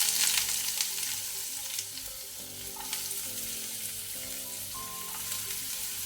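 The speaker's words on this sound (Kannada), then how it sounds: "Mustard seeds ಹಾಕೊಳ್ತೇನೆ. ಸಾಸಿವೆ ಚಟಪಟ ಆಗಲಿ." Mustard seeds splutter and chopped onion fries in hot oil for a dry fish fry, a steady close crackling sizzle with stirring scrapes, no voices.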